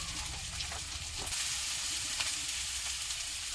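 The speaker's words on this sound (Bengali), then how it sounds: "মশলাটা ভালো করে কষিয়ে নেবে" Spice paste (masala) frying in a pan, giving a steady, close, bright sizzle that continues without a break and has faint stirring scrapes underneath.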